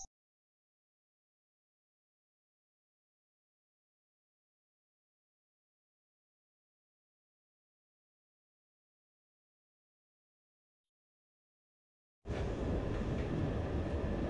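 A train in the video game Platform 8 gives a steady, loud broadband rumble that starts abruptly near the end after a long stretch of silence and runs for about two seconds.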